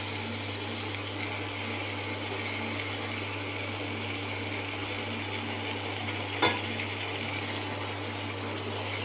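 Tomato paste sautéing with mushrooms in a pan for mushroom gravy, a steady even sizzle and hiss throughout with a single sharp clink midway, no voices.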